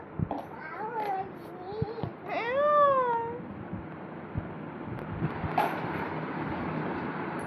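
A voice imitates a cat's meow a few times, rising and falling calls close to the microphone, followed by faint background noise.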